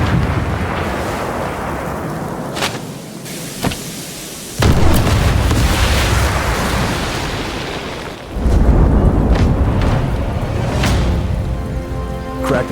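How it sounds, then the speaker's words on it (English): An engine room blown apart in the video game Sniper Elite 5: heavy booming blasts with thunderous rumble, a sharp onset midway followed by further crackling bursts and sustained low roar, loud and close. "Drop a charge in on the engine room and blow this whole place"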